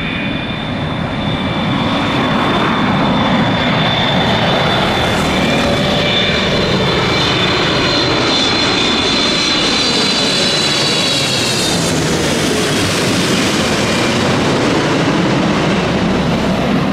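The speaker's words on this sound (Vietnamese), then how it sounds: "chiếc Boeing 777F này sẽ lướt qua ngay bên trên đầu mình trước khi hạ cánh" A Boeing 777F cargo plane passes low overhead on approach to land at Noi Bai airport runway 29, its loud continuous jet roar building and sustained across the whole stretch with whining engine tones rising and falling, no talking.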